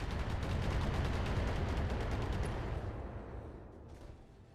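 Mech weapons fire in the BattleTech video game as a dense, loud barrage of rapid repeated blasts and rumbling impacts, sustained for several seconds before fading away.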